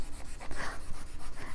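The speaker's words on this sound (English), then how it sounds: "We're really polishing the silver at this point" Steady rhythmic rubbing strokes of silver being polished by hand with a cloth on a champlevé flower pendant, close and moderately loud with a brief brighter scrape midway.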